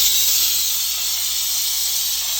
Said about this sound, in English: I took the Bissell Steam Shot to the kitchen and we decided to tackle the oven door